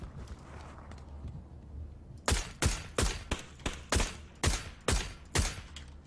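An M249 machine gun fires in a video game, eight sharp, evenly spaced shots at roughly half-second intervals, loud and close after a quiet stretch of low ambient noise.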